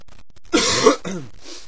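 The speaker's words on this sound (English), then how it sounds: "Not a smoker's cough, that." A man coughs once in a single harsh burst, close and fairly loud, then follows with a softer throat-clearing rasp and a fading breathy tail.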